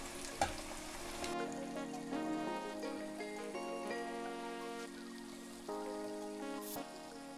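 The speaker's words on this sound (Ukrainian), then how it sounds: "Після того, як засипали морковку, перемішуємо це все." Vegetables, including carrots, sizzle and crackle in a pot of goulash over a steady frying hiss, with occasional stirring scrapes and faint music underneath.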